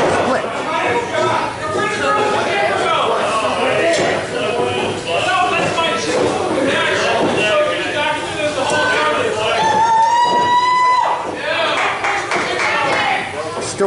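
Crowd at an XVW wrestling event, Holiday Hangover 2022, with scattered clapping and chatter throughout and a commentator's voice over it. A whistle-like tone rises briefly near the end.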